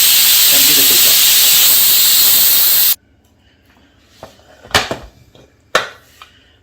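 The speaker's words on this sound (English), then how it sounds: "You can wait for a few minutes and then release the steam" Pressure cooker with chicken biryani venting steam, a loud, harsh continuous hiss for about three seconds that cuts off abruptly, followed by a few clinks of metal and kitchen handling.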